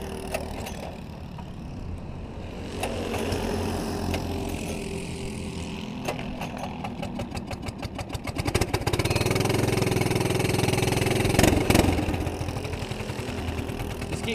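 A go-kart's small engine runs steadily and loudly, its revs climbing partway through into a harsher, rapid buzz before settling again, with no talk over it.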